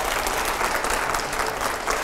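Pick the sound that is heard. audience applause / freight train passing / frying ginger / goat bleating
audience applause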